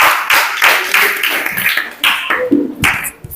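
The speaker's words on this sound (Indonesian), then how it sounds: "Tepuk tangan untuk kelompok 4" A small classroom group applauds group 4 at a teacher-training performance test, with quick, uneven handclaps close by, loud and irregular, fading toward the end.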